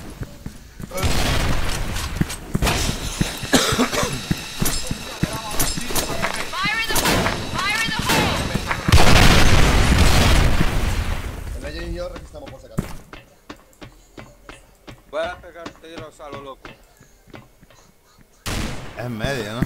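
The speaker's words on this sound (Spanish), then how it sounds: "Voy a pegar tiros a lo loco." Rapid bursts of gunfire in a competitive shooter game with bomb-planting rounds, dense overlapping shots and a booming blast in the first half, then sparser sharp reports, with excited talking throughout.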